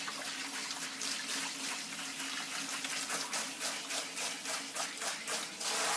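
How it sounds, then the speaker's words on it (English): Cool water runs from a tap while a lace closure is rinsed to set its tint, a soft continuous splashing flow with irregular gurgles and pulses, fairly faint and without talking. "And then I end with cool water to set it, cold water to set the color."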